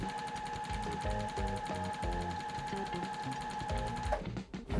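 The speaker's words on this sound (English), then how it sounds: "I'm gonna sew all my blocks together and then iron" A sewing machine stitches quilt blocks together, its needle running in quick steady bursts with short pauses between seams, close and clear with no talking.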